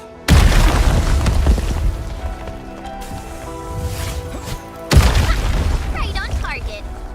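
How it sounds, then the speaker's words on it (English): Two heavy booming explosions from the video game Arknights Endfield hit loud and close, one right at the start and another a few seconds later, each followed by rumbling debris and lingering effects over a musical bed. "I give that explosion a 10 out of 10."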